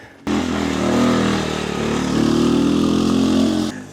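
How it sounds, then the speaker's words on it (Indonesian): A motorcycle engine labours loudly and close by as it climbs a steep mountain trail on Mount Sindoro, its drone steady and rising slightly in pitch midway before cutting off. "Jalur se-ekstrim ini dan masih ada yang berani naik pakai motor."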